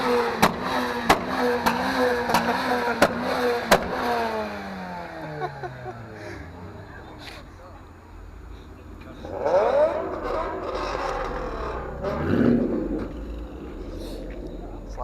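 At a busy car meet, cars rev their engines nearby, with rising and falling whines and sharp throttle blips, while people talk over the engine noise.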